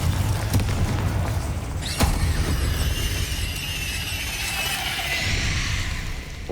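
A Confringo spell explosion in the Hogwarts Legacy video game booms loudly amid rumbling game effects, with a sharp burst around the middle followed by ringing, sweeping magical tones and a continuous low roar.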